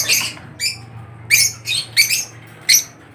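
Pet birds in a breeding cage give about six sharp, separate squawks and chirps in quick bursts over a low steady hum, close and loud, with no voices.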